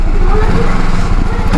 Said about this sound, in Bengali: 3টে বাইক নিয়ে পুরীর দিকে রওনা দিচ্ছি।